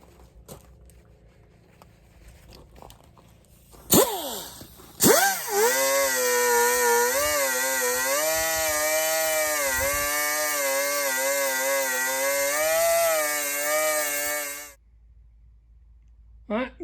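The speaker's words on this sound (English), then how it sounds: "The wire wheel took off the rust." A wire wheel spinning against a rusty 20-inch Champion Blower and Forge camel back drill press, heard as a loud, steady, high whine for about ten seconds after a couple of short starts, then cutting off abruptly.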